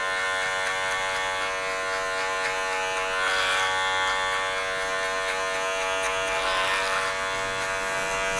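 Electric hair clippers buzz steadily and close up through a high skin fade, using only the corners of the blade, with a constant loud drone and slight swells as the blade meets the hair.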